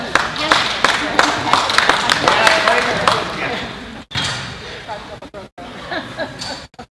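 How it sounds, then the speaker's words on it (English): Audience at a Grove Rotary club meeting claps, a dense round of applause in a room that fades into scattered hand claps, with a voice speaking over it. "several multiple claps for this guy"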